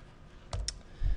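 Two or three quick keystrokes click on a computer keyboard, close and soft, in a short quiet burst with no talking.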